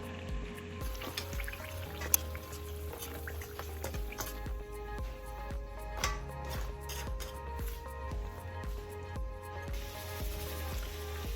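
Green plantain slices for tostones fry steadily in hot oil, a continuous close sizzle with scattered drips and small pops, with no voices over it.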